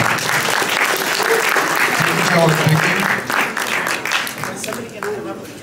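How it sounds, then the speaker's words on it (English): Applause for a cryptocurrency round-table panel at a congress in Miami: a crowd claps steadily with voices talking over it, and the clapping tapers off toward the end. "Big round of applause for the crypto panel"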